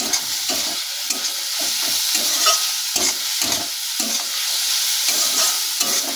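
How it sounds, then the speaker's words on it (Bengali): Pointed gourd frying in a pan with turmeric, chili and cumin powder, a steady bright sizzle broken by repeated scraping strokes of a spatula stirring the pieces. "লঙ্কার গুঁড়ো, আর অল্প পরিমাণ একটু জিরে গুঁড়ো দিয়ে এটাকে ভালো করে আমরা ভাজি মতন করে নেব"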